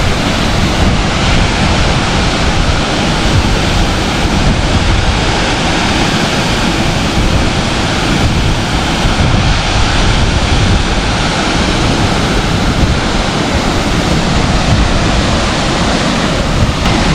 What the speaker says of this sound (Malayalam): നല്ല വെള്ളമൊക്കെ ആയിട്ട് നല്ലൊരു വൈബിൽ നിൽക്കണം കേട്ടോ നമ്മുടെ മർമല വെള്ളച്ചാട്ടം